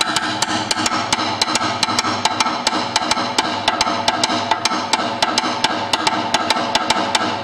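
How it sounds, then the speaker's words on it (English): Cascara pattern on a drum kit, tapped on the ride bell or the rim of a tom: a steady run of sharp, bright clicks in an even syncopated rhythm over a low sustained backing, close and without speech. "You can do the cascara pattern,"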